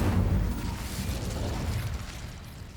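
Incendio fire spell cast in Hogwarts Legacy, a fiery low whooshing burst that starts loud and rumbles on steadily for a few seconds.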